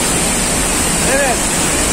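Steady, dense roar of the Bolu waterfall in Turkey filling the whole clip, loud and close, with a faint brief whistle-like tone partway through.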